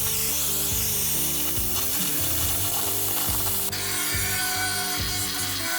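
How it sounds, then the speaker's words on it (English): A small pneumatic needle gun works on metal during welding and fabrication: a loud, continuous, dense mechanical rattle with rhythmic grinding pulses throughout and no talking. "Little needle gun, a little sling."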